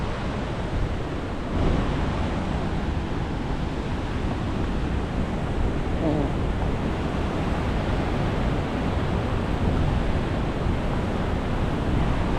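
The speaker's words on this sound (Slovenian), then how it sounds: "tam je dol divja reka" Wild river rushing through a gorge below Devil's Bridge, a natural rock arch, as a steady, loud broadband roar of water with wind buffeting the microphone, constant throughout with no speech.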